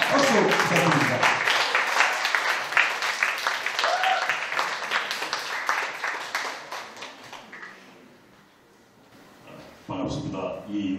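Audience applause at a book concert honoring the late politician Roh Hoe-chan, a dense crowd clapping for several seconds with voices mixed in, then fading to a lull before a short renewed burst near the end.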